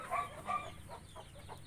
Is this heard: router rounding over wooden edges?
no